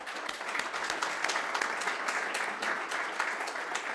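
Steady applause from an audience at a university sustainability campus summit, dense even clapping continuing for the whole stretch at a moderate distance.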